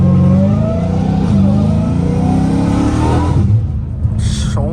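A Dodge Hellcat Redeye with an 800 hp engine rumbles loudly and close by with a deep, rising rev. The engine then drops back to a burbling idle.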